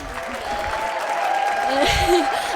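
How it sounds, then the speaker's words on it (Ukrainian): A canned applause sound effect plays during a Ukrainian fan quiz recap, a steady wash of clapping sitting under a person talking, with a faint sustained tone running through it. "Гоша, постав, будь ласка, оплески."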